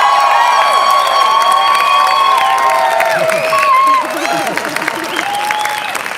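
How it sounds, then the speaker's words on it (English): A political convention crowd at Politicon 2019 cheers and applauds for the head of Turning Point USA, a loud, dense roar of clapping, whoops and shouting voices that fades slightly toward the end. "give a big round of applause to the head of Turning Point USA"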